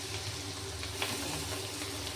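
Green chilies and coriander leaves temper in two spoons of hot oil, a soft continuous sizzle and hiss, close but low in level, with no voices.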